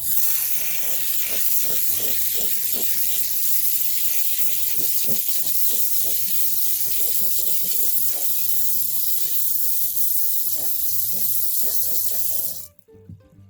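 Tap water runs steadily over tumbled rocks during a rinse, a loud continuous hiss with clicks and knocks of stones shifting beneath it, cutting off abruptly at the end.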